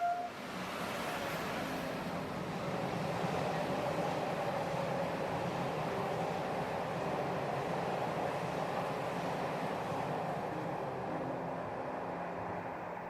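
Train running on the Pajares mountain railway, a steady low rumble and rolling rail noise at moderate distance for the whole stretch, with no voices.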